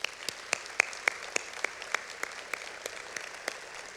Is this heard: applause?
yes